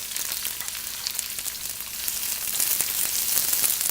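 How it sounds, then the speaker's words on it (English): Finely sliced medium brown onion sautéing in hot cooking oil over medium-high heat, a bright, dense sizzle that crackles steadily and grows slightly louder, heard alone. "I'm heating up some cooking oil, and I'm going to put in finely sliced medium brown onion to saute"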